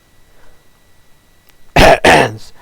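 Two sharp, loud coughs in quick succession, close up, after a stretch of quiet background hiss.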